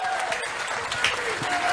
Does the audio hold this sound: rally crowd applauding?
yes